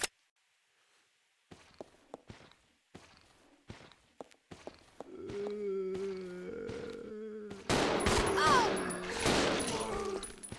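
Gunfire in Resident Evil 0, a run of sharp bursts breaking out over the game's rumbling ambience and footsteps, growing dense and loud toward the end.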